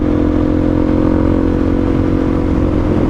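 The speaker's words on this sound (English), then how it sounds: "it's not good on a two-stroke engine to keep those things just tapped out like that" A two-stroke off-road motorcycle engine is held flat out at full throttle, giving a loud, close, sustained buzzing drone with a steady pitch and no letup.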